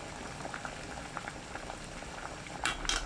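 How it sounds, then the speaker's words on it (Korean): Water at a rolling boil over high heat with 150 g of garlic cloves blanching in it gives a faint, steady bubbling hiss, with a few sharper pops near the end. "끓는 물에 마늘 150g 넣고 센 불로 2분 데칩니다."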